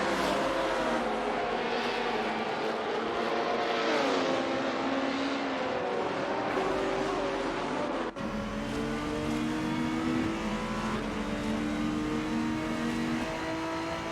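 Race car engines in a GTR racing simulation at Interlagos drone and rev continuously, with pitch sweeps as cars accelerate and shift, and a brief dip around the midpoint before the loud roar resumes.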